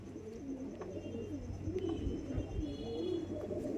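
Madrasi pigeons at a home loft coo in soft, repeated rolling phrases, close and quiet, several calls overlapping over a low background hum.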